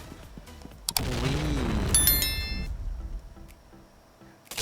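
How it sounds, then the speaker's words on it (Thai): A grenade detonates in a first-person shooter, a sudden loud boom with ringing metallic tones that decays over a couple of seconds, followed by fainter rhythmic game sounds. "ระเบิดมาครับผม"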